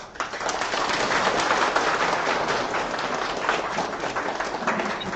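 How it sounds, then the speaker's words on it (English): Participants at an international campus lecture applauding the lecturer in a sustained, even wash of clapping from a group that holds steady for about five seconds. "giving big round of applause to Dr. Dorish Padmini for our wonderful support to Ghodaghodi Multiple Campus here"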